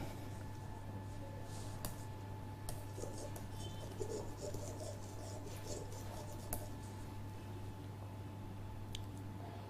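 Pen scratching on paper while working a logic problem: soft, intermittent strokes and small taps, faint against a steady background hum, no voices.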